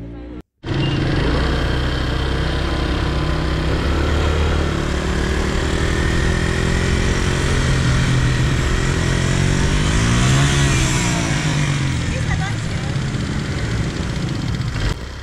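A geared motorcycle engine runs steadily and loudly nearby during a first riding lesson, holding a continuous rumbling drone with slight pitch shifts throughout.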